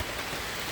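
Rain falls in a loud, steady wash of hiss, close and unbroken.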